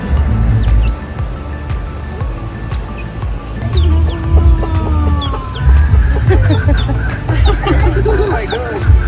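Chickens cluck and chatter at a farm, several birds calling in short bursts over a steady din of ambient noise and nearby voices, with talking mixed in throughout.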